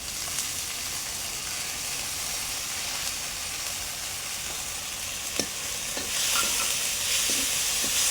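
Sliced onion and chopped green chillies frying in a cumin tempering in a pan, a steady close sizzle with occasional spoon clicks and stirring, swelling louder near the end.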